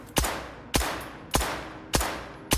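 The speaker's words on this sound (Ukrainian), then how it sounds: "Раз в 3 секунди зараз спробую стріляти." A new pistol in the S.T.A.L.K.E.R. 2 video game fires five sharp, evenly spaced shots about half a second apart. Each crack rings out with a short decaying tail, and no voices are heard.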